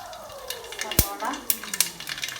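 Onion sautéing in hot coconut oil after mustard seeds for a home-style mutton curry, a soft steady sizzle with stirring scrapes and a sharp clink of a utensil against the pan.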